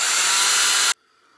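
A sanding stone rubs against the cut end of a carbon fibre airsoft outer barrel, making a loud, steady abrasive hiss that stops abruptly just under a second in, leaving quiet.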